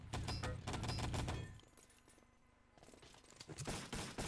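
MP40 submachine gun fire in the Enemy Territory shooter game comes as a dense rapid burst that stops abruptly, then a quieter pause before more scattered gunfire and game sounds return.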